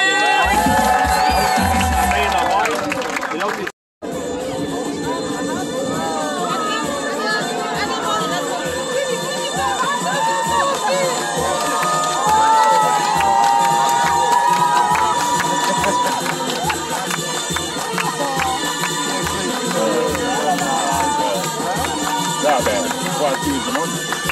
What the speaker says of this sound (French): On applaudit l'Afrique!